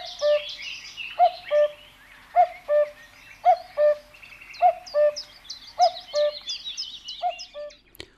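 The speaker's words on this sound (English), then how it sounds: "On any list of universally known birds, the cuckoo is near the top." A cuckoo repeats its two-note call about eight times at an even pace, clear and moderately close, with faint chirps from other birds behind it.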